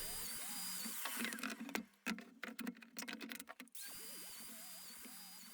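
A Festool-style domino joiner plunges mortises into the edges of a cabinet face frame, with a piece of scrap steadying its base: a steady motor whine, then a burst of rapid cutting chatter in the middle before the whine returns.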